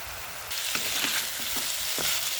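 Vegetable bhaji frying in a pan makes a loud, continuous sizzle up close, with several scraping stirs of a spatula cutting through it.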